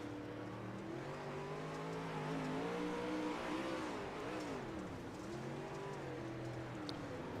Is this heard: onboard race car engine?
yes